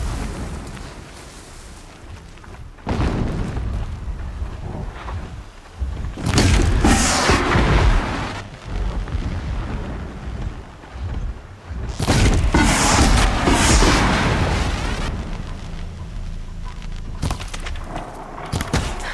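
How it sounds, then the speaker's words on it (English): Distant explosions in the video game Horizon Zero Dawn: several deep rumbling booms and bursts that swell and fade over a steady low background, rolling in waves rather than sharp single blasts. "Explosions in the distance."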